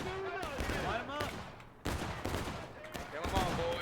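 Musket volley fire in a Hagerstown Turnpike public match of a multiplayer war game, with bursts of overlapping shots cracking repeatedly over a constant battlefield din, and voices heard calling out through the clip.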